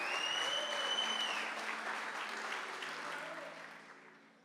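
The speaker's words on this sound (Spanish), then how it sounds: "dale un aplauso grande a Jesús" Applause for Jesus fills a church service, dense clapping from the congregation that starts loud and gradually fades over a few seconds, with a sustained tone lingering in the background.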